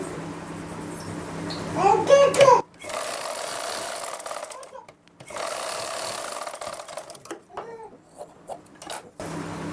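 A sewing machine stitches a lined blouse in short bursts, with a loud run of stitching early on and quieter intermittent whirring later, while someone talks over and between the bursts.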